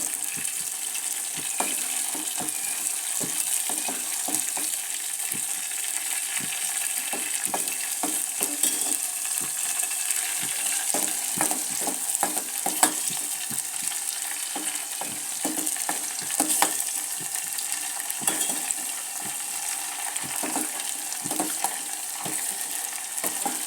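An herbal paste for hair oil bubbles and sizzles steadily in a pan, with dense continuous crackling and popping throughout and no voices.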